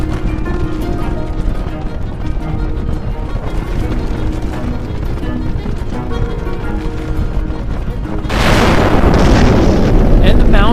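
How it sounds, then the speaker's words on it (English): Mount Saint Helens erupting after an earthquake-triggered landslide, a loud continuous rumbling roar that swells into a heavier blast near the end. "And the mountain is blasting. It's erupting."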